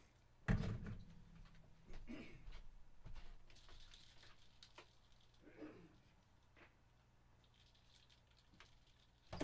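A single sharp thud of a door shutting stands out near the start, followed by quiet rustling and faint movement, with another knock at the end.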